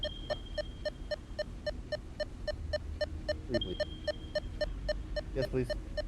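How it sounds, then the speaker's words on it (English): An item in the video game Satisfactory beeps steadily, a rapid, evenly spaced electronic pulse that repeats many times over a low background hum, with a few brief chirps near the end. "There's no way I'm listening to this thing beep."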